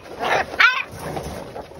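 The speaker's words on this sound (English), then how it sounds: "What are you barking at?" A dog gives two close, sharp barks in quick succession, followed by softer yips and whimpers.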